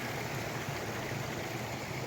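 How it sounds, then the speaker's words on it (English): Woodland stream in the Glen Feshie pine woods trickling over small waterfalls, a steady, even rushing wash of water that stays continuous and fairly soft, with no voices. "making little waterfalls as it goes into the stream"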